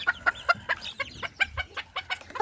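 A hen clucks and squawks while being picked up by hand on a small farm, a busy run of short, sharp calls in quick irregular bursts, close to the listener.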